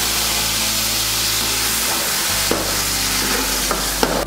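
Cooked, ground chana dal sizzles in hot ghee while being stirred for a Kerala parippu pradhaman, a steady loud frying hiss with occasional scraping knocks of the spoon against the pan.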